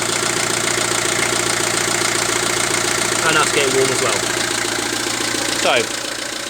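Main engine of a River Thames motor cruiser running steadily at idle with a continuous mid-pitched drone, recorded close in the engine bay while someone talks over it.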